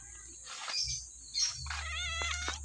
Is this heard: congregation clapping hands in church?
no